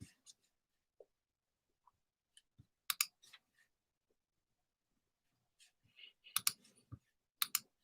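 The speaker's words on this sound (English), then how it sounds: "let me just click on my MetaMask here" Sparse computer mouse clicks in a quiet room, single and double taps scattered irregularly, crisp and close, with a few short clustered bursts near the end.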